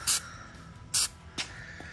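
Flex Seal rubberized coating sprayed from a can in three short hissing bursts, the first two longer and the last briefer, close and fairly loud against a quiet background.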